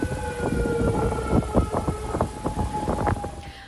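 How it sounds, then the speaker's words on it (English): Tornado sirens wail over Purcell, Oklahoma on a stormy Wednesday night, holding steady wailing tones beneath a dense run of crackling, rumbling bursts from the surrounding storm. "That's the sound of tornado sirens in Purcell,"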